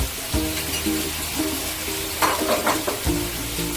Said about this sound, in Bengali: এবার দিয়ে দেবো ম্যারিনেট করা কচুর শাকগুলো